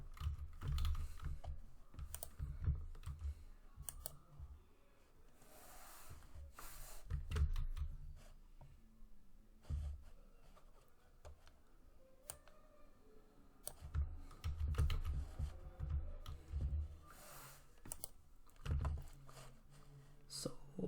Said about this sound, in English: Use your username and password that you have created when creating the virtual machine.